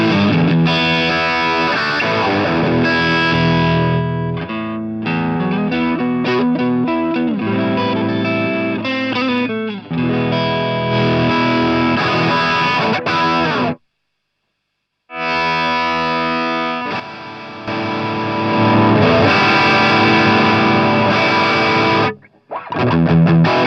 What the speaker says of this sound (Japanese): アンプヘッドの音はギターのボリュームを全開でクランチ、絞るとクリーンに戻るくらいの程よいクランチにしています